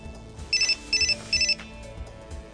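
A phone's text message notification plays three quick bright chirping bursts in a row, each made of fast repeated beeps, clear against a faint background hum.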